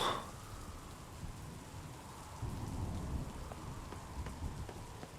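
Steady rain pours throughout a stormy scene in the video game NieR Reincarnation, with a low rumble of thunder rolling in partway through under the constant hiss of falling water.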